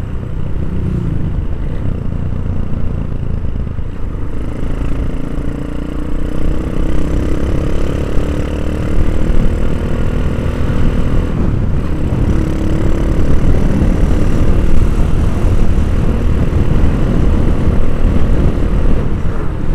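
A Honda CB motorcycle engine running close and loud, a continuous throaty rumble holding steady for the whole stretch with no one talking over it.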